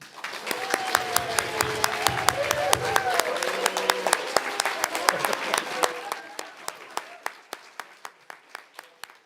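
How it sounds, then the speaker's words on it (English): Congregation applause at a Unitarian Universalist worship service, a dense patter of many hands that thins over the last few seconds into scattered, separate claps, with some voices murmuring under it early on. "You're now free to welcome them with some applause."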